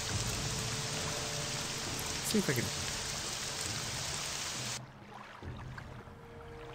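Steady hiss of rain falls in Morrowind, filling the first five seconds evenly before cutting off abruptly into quieter ambience, with a brief spoken voice over the downpour.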